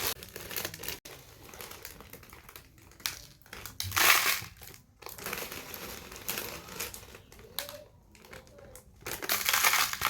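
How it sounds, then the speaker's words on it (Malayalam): Coarse rock salt is dropped by the handful into a box for a homemade room freshener, producing close, crunchy gritty rattles and crinkling bursts that come and go irregularly. "നമുക്ക് ഈ ബോക്സിലേക്ക് നമ്മുടെ കല്ലുപ്പില്ലേ, അതൊരു 2 പിടി കല്ലുപ്പ് നമുക്ക് ഇട്ട് കൊടുക്കാം"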